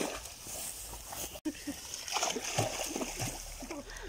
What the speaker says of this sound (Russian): О, видите, Бусик плавает?